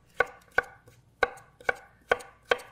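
Vegetables being diced with a knife on a board: six crisp, evenly spaced chops in quick succession, close and clear, with quiet pauses between and nothing else audible.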